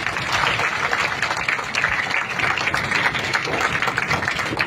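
A school event crowd clapping together, a dense continuous wash of applause held steady at fairly loud level throughout, no voices standing out above it.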